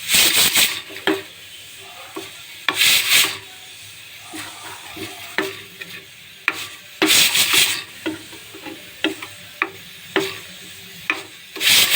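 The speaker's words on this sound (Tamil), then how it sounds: "அதை அப்படியே போட்டு நல்லா கலக்கிக்கணும்" Spoon stirring and scraping a dry roasted spice mixture in a pan, with bursts of gritty rubbing in several bouts and softer scrapes between them, close and clear with no talk.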